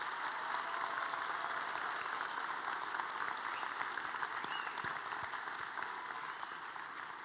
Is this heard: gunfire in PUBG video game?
no